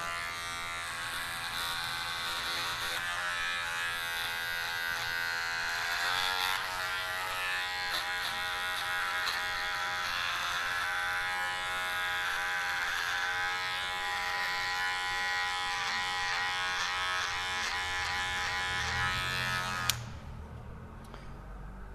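Electric hair clipper running in a barbershop, a steady close buzz with a fine whining hum that holds for about twenty seconds and then cuts out abruptly, leaving quiet room tone.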